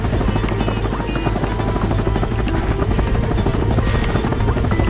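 An enemy helicopter in the video game Ratchet & Clank gives a constant, loud rotor thrum and buzzing drone. It stays steady and fills the whole stretch, with faint game effects flickering underneath.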